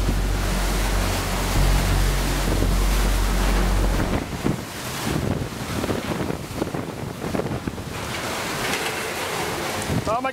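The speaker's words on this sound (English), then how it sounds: "I can hear, feel the whole building shaking violently." Category 4 Hurricane Harvey winds roar around a building in a constant, heavy, rumbling wash of gusts. The roar thins slightly partway through, leaving rattling, rushing turbulence.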